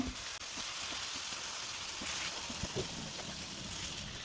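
Beef liver fries in a pan over a low flame, giving a steady, soft, continuous sizzle with scattered small crackles and pops, heard on its own at low volume.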